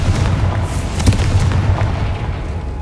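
A Confringo fire spell explodes in the video game Hogwarts Legacy: a loud, heavy blast with a deep rumbling low end. It stays dense and roaring for nearly three seconds, with no talking.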